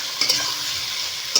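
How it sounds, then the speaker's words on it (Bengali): Three large chopped onions fry in hot oil with whole spices in a pan for a desi chicken curry, a close steady sizzle broken by a few sharp stirring scrapes at the start and end. "পেঁয়াজ লাল করে ভেজে নেব"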